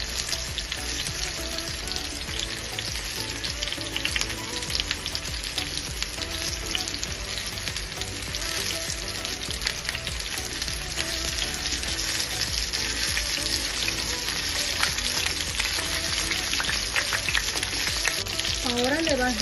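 Onion rings and eggs frying in a pan on a stovetop, a loud, dense sizzle crackling continuously for the whole stretch, with occasional stirring scrapes and no voices.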